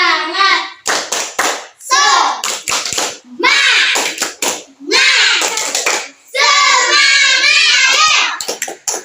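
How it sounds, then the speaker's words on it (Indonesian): A class of schoolchildren performs the rhythmic spirit clap, bursts of patterned clapping alternating with loud chanted voices in a classroom, close and energetic. "Kasih tepuk semangatnya dulu dong"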